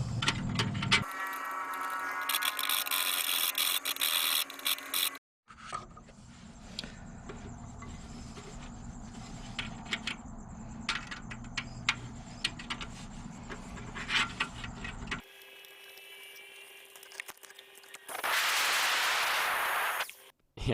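Tin snips trim a corner of sheet metal during frame repair on a Datsun 510, giving repeated close, crisp metallic snipping and scraping cuts, with louder shop clatter in short bursts near the start and end.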